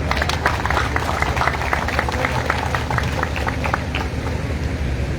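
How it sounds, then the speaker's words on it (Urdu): A crowd at an outdoor community welfare event applauds steadily for Waseem, dense continuous clapping filling the space at strong volume. "وسیم بھائی کے لیے ایک دفعہ بہت بڑی تالیاں"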